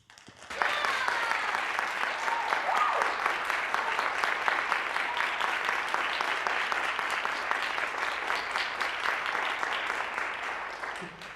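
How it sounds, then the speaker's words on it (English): A live audience gives sustained, steady applause for ballet dancers, a dense wash of clapping that swells quickly and holds for over ten seconds before easing slightly at the end. "this is likely the first applause that they've heard from a live audience in over a year"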